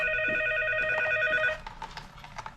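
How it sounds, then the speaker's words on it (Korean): A hotel room telephone in Manila rings with a steady electronic trill for about a second and a half, close and clear, then stops, leaving quiet room noise. "주문을 하니까 이렇게 전화가 왔어요"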